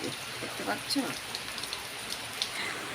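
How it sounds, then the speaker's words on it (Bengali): Steady rain falling and pattering on surfaces nearby, a continuous hiss with scattered drips, while a voice speaks faintly in the background. "বন্ধুরা অনেক তো বৃষ্টি দেখলাম"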